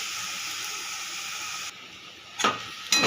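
Banana flower frying in ghee with spices gives a steady close sizzle and hiss that drops away briefly, then returns with two sharp bursts of spattering as the pieces are stirred.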